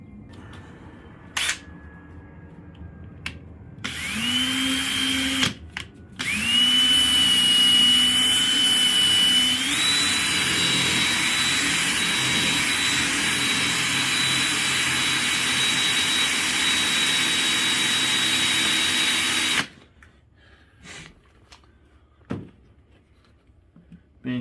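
A power drill with a 3/8 bit drilling a hole, starting with short bursts, then a long steady high-pitched whine whose pitch rises partway through before it cuts off, close and loud.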